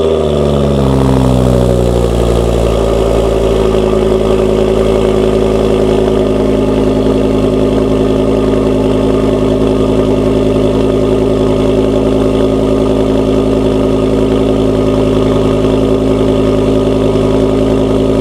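A Volvo S40 T5 AWD sits at idle, its exhaust giving a steady, loud low rumble after a brief early rise in revs that settles into an even drone throughout.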